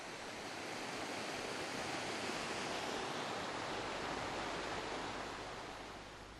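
Water runs steadily down from the hills, a continuous, even rushing hiss at low level with no breaks, heard from a distance and without any voices.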